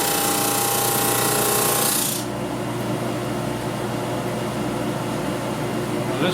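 A loud power sander whirs against wood for about two seconds, then cuts off, leaving a lower mechanical hum and rattle.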